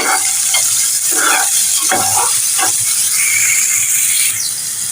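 Tomatoes and green chillies fry in a little oil, giving a loud, steady sizzle and hiss, with intermittent scraping and stirring strokes through the pan and no one speaking.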